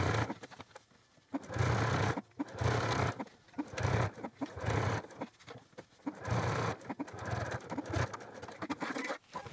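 A sewing machine top-stitches the front edge of a fleece hat, running in several sustained bursts of rapid whirring separated by short pauses, close and steady.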